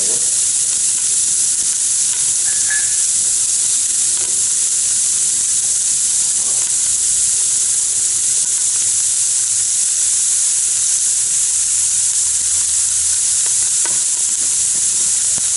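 Onions cook in a pressure cooker with a steady, even sizzle and hiss that holds at the same level throughout, with no voices.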